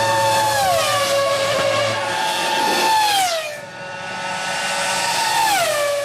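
A Williams Formula 1 car with a screaming V10 engine howls loud and close, its pitch climbing and dropping through sharp revs, briefly easing off before rising again.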